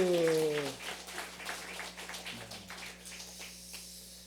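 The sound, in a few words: congregation applauding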